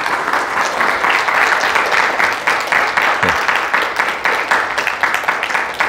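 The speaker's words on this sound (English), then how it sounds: "Give the Lord a hand clap of praise." A church congregation at a Sunday service claps in praise: dense, steady applause from many hands filling the room, loud and even for the whole stretch, with a faint voice briefly underneath.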